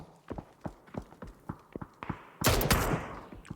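Gunfire in a PUBG esports match: a string of sharp, evenly spaced shots, then a louder, denser burst of fire near the end, with no talk over it.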